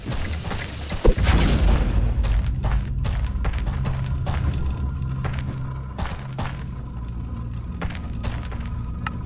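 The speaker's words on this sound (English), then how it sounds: "Hear one of those bombs?" A bomb blast from Driftmoon lands with a deep boom near the start, followed by a low rumbling hum and scattered dull thumps and clicks.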